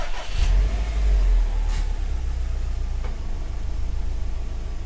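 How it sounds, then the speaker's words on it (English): A 2019 Subaru WRX STI engine cranks and catches near at hand, flares briefly in a short rev, then settles into a steady low idle that continues to the end with no one talking. "So we're just gonna let this idle for about 5 minutes"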